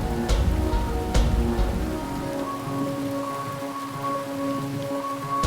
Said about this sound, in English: the rain is heavy but not unbearable. You've had worse. As thunder rolls and cracks and lightning strikes the ocean,